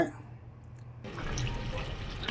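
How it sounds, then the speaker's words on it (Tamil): Water poured into a cooking pot while making a Kongunad-style brinjal and black-eyed pea masala kuzhambu, a steady close splashing and trickling that begins after a quiet second and runs continuously to the end. "இப்போ நம்ம தேவையான அளவுக்கு தண்ணி ஊற்றிக்கோங்க"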